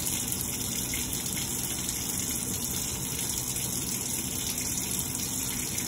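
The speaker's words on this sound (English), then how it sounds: "Once you're finished washing your hands, what you will want to do is rinse them off with water." Tap water runs steadily from a faucet during handwashing, a continuous close, even gush with no pauses or voices.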